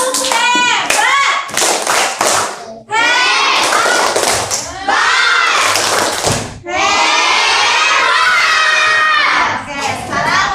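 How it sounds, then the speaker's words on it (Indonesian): A classroom group of students claps together in a rhythmic patterned clap during a teacher-training lesson, loud and close, with bursts of hand slaps broken by brief pauses and children's voices mixed in. "Kita tepuk hebat ini semua."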